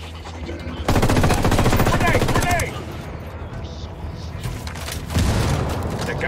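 Automatic gunfire in the video game Tom Clancy's Ghost Recon Wildlands, a sustained loud burst of rapid shots, then quieter background combat noise, and another burst near the end.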